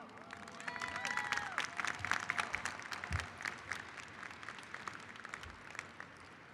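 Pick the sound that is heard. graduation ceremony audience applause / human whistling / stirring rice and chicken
graduation ceremony audience applause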